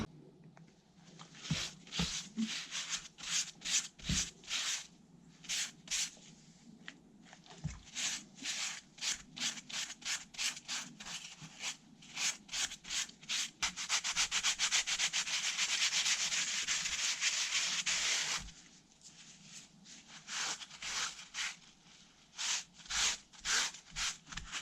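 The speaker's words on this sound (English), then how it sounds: "just got some brake clean and some rags, and I'm just going to get the worst of the crap off" Rags wiping and scrubbing grime off BMW K100 motorcycle parts with brake cleaner, a steady run of close, rhythmic rubbing strokes with a longer continuous scrubbing stretch in the middle.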